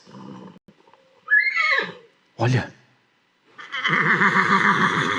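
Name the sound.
horses neighing sound effect, Egyptian chariots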